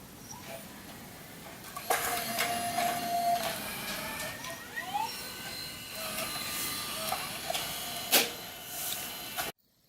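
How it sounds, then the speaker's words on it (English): Sony TRV-140E Digital8 camcorder's cassette compartment mechanism whirring and clicking as the tape door ejects and closes, a close mechanical motor hum with small clicks and a sharp snap near the end. "This is how we eject the cassette tape. Here's how we can close it."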